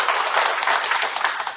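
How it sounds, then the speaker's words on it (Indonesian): Applause from a church congregation, a short burst of dense, even clapping heard alone at moderate loudness. "Berikan tepuk tangan untuk Tuhan."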